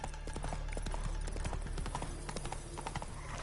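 Roach the horse's hooves clip-clop at a steady walking rhythm in The Witcher 3, alone over a low ambient hum.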